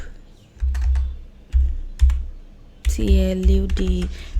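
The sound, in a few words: typing a prompt on a computer keyboard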